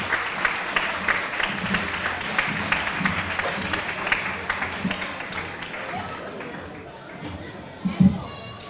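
Outdoor town audience in Torre Pacheco, Mar Menor, applauding the mayor, a steady mid-distance patter of many hands that fades toward the end, with a few voices and children's chatter mixed in.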